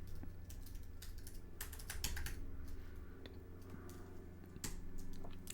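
Someone types on a computer keyboard in bursts of quick, crisp clicks and clacks, close up, over a faint steady electrical hum with no talking.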